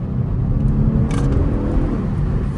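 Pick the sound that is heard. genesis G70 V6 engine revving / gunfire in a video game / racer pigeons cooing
genesis G70 V6 engine revving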